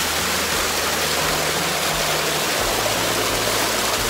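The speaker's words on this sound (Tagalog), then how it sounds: "So ito yung falls nila." Steady, full roar of a waterfall at a swimming spot, dense rushing water pouring without pause, close and loud, with no voices.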